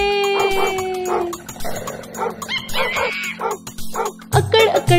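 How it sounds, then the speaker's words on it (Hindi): Dogs barking loudly, a run of sharp yips and barks with some whimpering and howl-like tones, fairly close, in a short busy burst over background music. "बंदर जी के तेवर देख के जोर से कुत्ते भौंके।"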